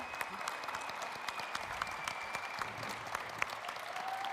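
Sustained audience applause at a general assembly in Bratislava after a presentation ends, a dense steady wash of many hands clapping with occasional sharper individual claps, fairly loud and continuous throughout.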